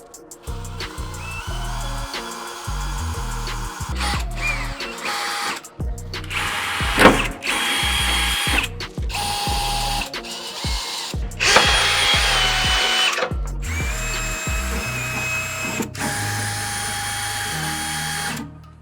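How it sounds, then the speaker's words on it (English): A power drill bores holes through the steel bed of a 2023+ Chevrolet Colorado truck while a bed stiffener is fitted, in loud bursts of whining spin separated by brief pauses, with ratcheting clicks between runs and no one talking. "now that everything's center punched, we're gonna start that drilling now."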